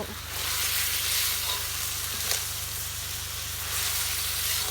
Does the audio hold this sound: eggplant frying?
yes